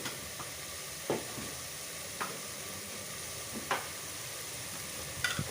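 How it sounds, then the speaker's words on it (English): Spices with turmeric powder frying in a pan, giving a soft, steady sizzle with several sharp stirring scrapes and clinks spaced through it, close but fairly quiet. "Let it fry up."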